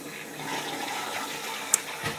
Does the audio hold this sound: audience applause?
no